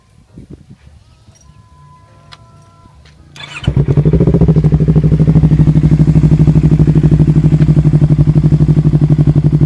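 A Yamaha New MT-25 motorcycle engine cranks and fires after a few seconds of quiet handling noises, then settles into a loud, close, steady throbbing idle.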